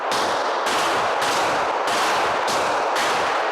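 Sustained bursts of rapid automatic gunfire at police shooting training, loud and close, in several long strings separated by brief pauses.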